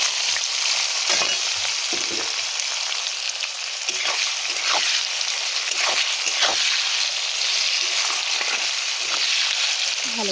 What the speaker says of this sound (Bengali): পেঁয়াজটা বাদামি হয়ে ভাজা হয়ে গেছে